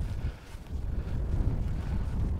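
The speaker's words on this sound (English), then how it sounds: "it's bloody windy" Steady, low rumbling wind at Stithians Dam buffeting the microphone, gusting up and down throughout with no voices.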